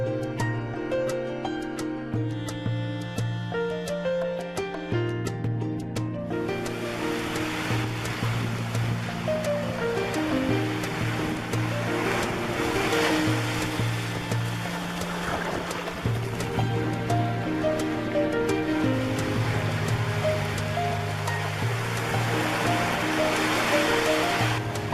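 Ocean surf washes continuously onto Radhanagar Beach on Havelock Island, India, a steady wash of waves with music playing over it throughout.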